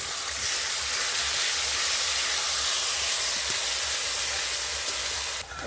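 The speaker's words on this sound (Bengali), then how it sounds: "পেঁয়াজটা ভালো করে ভাজা হয়ে গেছে, আমি এবারে বেটে রাখা মশলাটা দিয়ে দিচ্ছি।" Ground spice paste frying in a kadai makes a loud, dense hiss of steam and sizzle that stays even throughout and drops away abruptly at the very end.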